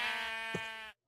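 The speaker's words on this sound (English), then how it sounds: "We have sheep. Lots of sheep." A single Minecraft sheep bleats once, clear and close, a wavering cry of about a second that stops abruptly.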